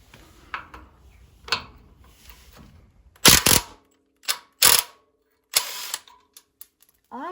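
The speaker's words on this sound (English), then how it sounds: "I'm now going to take the nuts off" Axle nuts being worked off the studs of a 1972 Bolens 1054 garden tractor, with bursts of metallic ratcheting and clicking from a hand tool, separated by short pauses and scattered small clanks.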